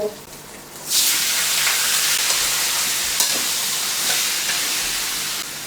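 Squid hits a hot pan in a Thai home stir-fry, bursting into a loud, steady sizzle with hissing steam that stays strong for several seconds after a quiet start.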